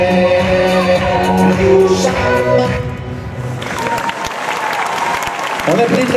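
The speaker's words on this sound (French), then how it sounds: "on applaudit très fort Princesse Macaron" At a cosplay show, an audience breaks into applause for a contestant dressed as a Zelda Twilight Princess character. The dense clapping swells in the second half after a stretch of music and voices.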